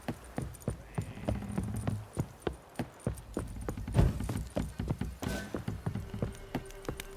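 Horse hooves clip-clop at a steady walking rhythm in the video game Witcher 3, clear and fairly close, with faint game ambience beneath.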